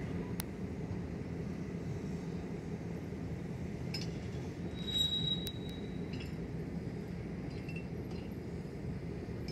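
Low rolling rumble of rail cars moving along, with faint high-pitched wheel squeals and occasional clinks from the track.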